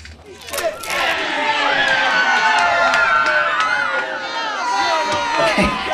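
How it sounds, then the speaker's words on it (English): Fans at a red carpet event scream and cheer loudly and continuously, a dense crowd roar with shouting voices rising over it throughout. "Why is everybody screaming at me?"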